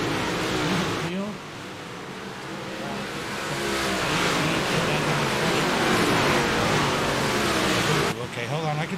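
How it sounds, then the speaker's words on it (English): Big-block race cars roar continuously around a track, a loud engine drone rising and holding for several seconds, with a voice talking faintly at the start and end. "The car's too loud."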